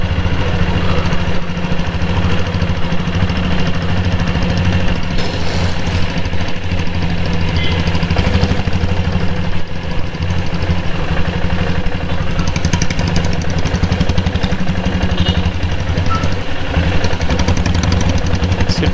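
A diesel-engined Bullet motorcycle runs steadily close by, its loud, even, low thumping idle holding without change from start to finish.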